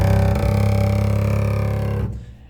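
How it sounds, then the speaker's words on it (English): A sustained, grainy low double bass string scrape, bowed very slowly, drones steadily for about two seconds, then cuts off into a brief fading ring. "So if I keep my bow in the string and move it very slowly,"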